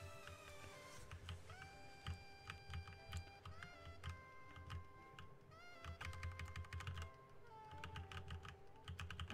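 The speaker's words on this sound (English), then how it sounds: "I got a new keyboard and I love the sound of it. It has like click clack" Rapid clicky keystrokes patter in uneven bursts on a keyboard, close and crisp, with faint tonal beeps or chimes playing in the background.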